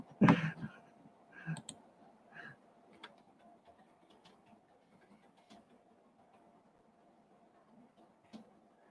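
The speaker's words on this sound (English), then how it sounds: "I got too many keyboards in front of me. Which one am I working with?" Scattered clicks of a computer keyboard at a desk with several keyboards, irregular taps over a faint steady hum of an air conditioner, quiet and close.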